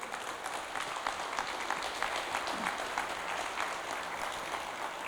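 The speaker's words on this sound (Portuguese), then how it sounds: "Uma salva de palmas para Jesus" A church congregation applauds during a Sunday worship service, a steady, dense wash of clapping that carries on for several seconds at moderate distance.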